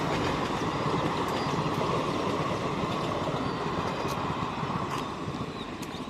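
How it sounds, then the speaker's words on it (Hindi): The Rewa-Itwari passenger train runs from Jabalpur toward Nagpur, passing close by with a steady loud roar of wheels and rail clatter that fades slightly near the end. "ये ट्रेन जा रही है, देखिए ये ट्रेन जबलपुर से आई है और नागपुर जा रही है"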